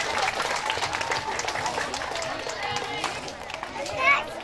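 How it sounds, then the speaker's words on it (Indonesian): Audience applause at a Qur'an completion ceremony for children in a mosque, a sustained burst of many hands clapping with crowd murmur and voices underneath, swelling briefly near the end. "Sekali lagi beri tepukan untuk anak-anak kita."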